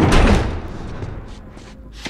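Doors slam shut with a heavy thud while survivors barricade a high school in The Last of Us, one loud close impact followed by fading rattles and faint knocks.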